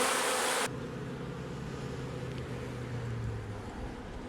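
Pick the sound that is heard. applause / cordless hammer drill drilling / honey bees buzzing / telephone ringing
honey bees buzzing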